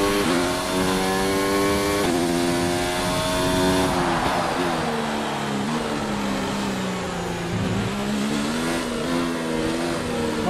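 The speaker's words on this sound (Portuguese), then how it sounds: "o motor parece um calhambeque" Formula 1 car engine in the F1 2019 video game at the British Grand Prix, a loud, continuous high-pitched whine that revs up and down with shifting pitch, close and alone without talk.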